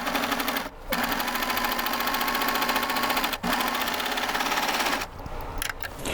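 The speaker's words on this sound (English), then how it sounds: "And I would serge along like this." A serger stitches along the ruffle fabric of a broomstick skirt with a fast, buzzing mechanical chatter, close and loud, pausing briefly twice before slowing and stopping near the end.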